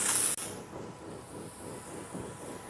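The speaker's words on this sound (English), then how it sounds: "we are spraying the body of water with a product called" Metaflock, a biological phosphorus binder, being sprayed over a body of water to treat harmful algae blooms, giving a steady, continuous hiss with a soft outdoor rumble beneath and a brief break near the start.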